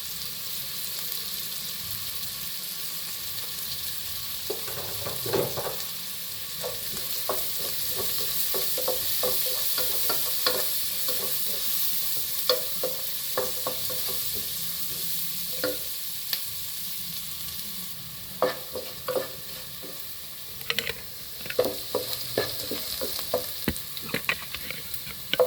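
Turmeric powder is stirred into a sizzling frying pan for aval upma, with a steady fry hiss under frequent scraping, tapping strokes of a spoon against the pan.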